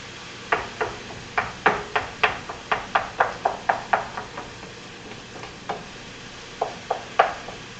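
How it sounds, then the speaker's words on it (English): Ground meat for tacos gets chopped up in a pan with a utensil, a run of crisp close knocks in uneven rhythm, pausing briefly midway before resuming, over a faint background hiss. "I think this is the most time-consuming part of tacos,"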